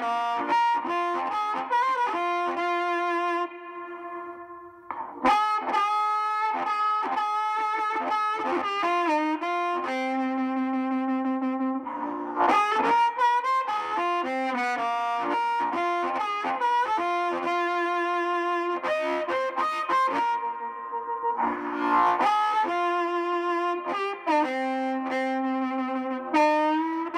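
Harmonica played through a reverb pedal, with sustained chords and melodic phrases that ring out with a lingering wash, loud and continuous with only brief pauses.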